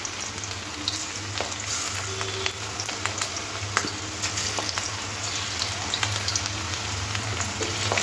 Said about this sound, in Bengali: এবার তেলটার মধ্যে চিকেনগুলো দিয়ে একটু ভেজে নেব।